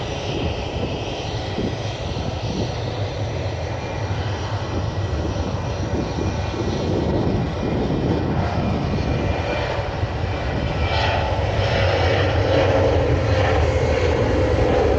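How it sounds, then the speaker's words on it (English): British Airways Airbus A320-232 jet on the move at Manchester Airport, a steady, loud engine roar rising slightly and swelling toward the end, heard alone without talk. "I've got a British Airways A320-232, that's the shuttle going down to Heathrow."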